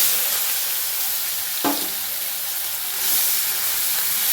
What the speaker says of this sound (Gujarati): પેસ્ટ સતળાય એટલે એમાં ડુંગળી મૂકીશું.